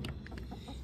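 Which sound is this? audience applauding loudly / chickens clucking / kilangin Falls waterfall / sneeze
chickens clucking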